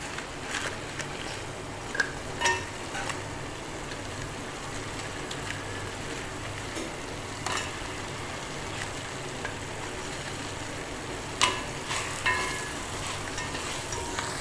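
Fried chicken pieces dropped into biryani masala sizzle and crackle steadily in a hot pan, with occasional clinks and scrapes of stirring.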